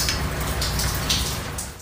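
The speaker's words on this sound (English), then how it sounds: "this video recorded by a resident shows rain falling inside a building stairwell. It just sounds like a waterfall" Rainwater pouring down inside an apartment building stairwell in Racine, rushing like a waterfall: a steady, dense hiss of falling water that holds at constant loudness throughout, with no voices.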